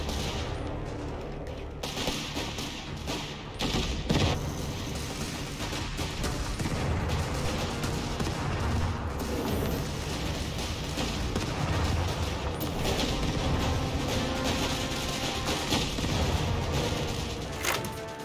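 Company of Heroes 3 battle audio: rapid small-arms and machine-gun fire mixed with heavy artillery booms, dense and continuous for the whole stretch, loud and chaotic, with no speech.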